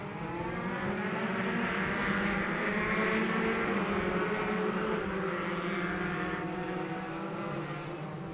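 Sports 2000 race cars circle on a formation lap, their engines blending into a continuous droning roar with shifting pitch, heard from a middle distance as the pack passes steadily by.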